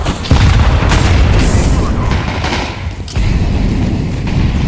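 A grenade detonates in a video game with heavy, booming blasts that roll and rumble loudly for several seconds, with a brief dip before another burst of sustained explosive noise.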